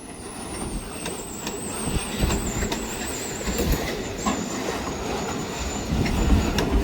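A freight train pulled by an SD9 locomotive brakes on the rails: a thin, high wheel squeal wavers above rumbling, clattering wheels and occasional metallic clicks, steady and close.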